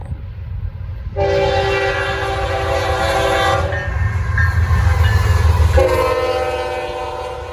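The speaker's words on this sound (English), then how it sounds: "They are a pretty short train today." A short Norfolk Southern freight train with a distributed power unit rolls past close by, loud steady rumble and wheel noise under two long blasts of the horn.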